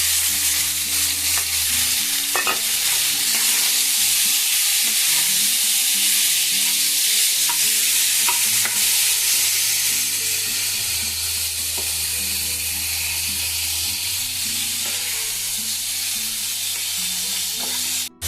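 Pumpkin curry cooking with hilsa fish heads fries in a pan, a loud, steady sizzle and hiss running throughout, with background music playing underneath and no talking.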